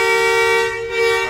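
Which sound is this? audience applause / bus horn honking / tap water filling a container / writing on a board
bus horn honking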